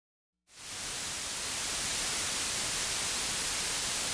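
A synthesizer noise source switching on after a half-second of silence, then a steady, loud hiss of broadband static that holds unchanged to the end, with no voice over it.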